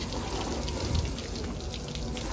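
Water from a small hose sprays steadily onto a shampooed Toyota Fortuner during a home car wash, a continuous close hiss and splash with no pauses and no voices.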